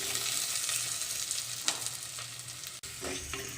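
Small shallots and large onions sizzle and fry in a clay pot for chicken kuzhambu, a steady close hiss with a few stirring scrapes and a brief dropout near the end.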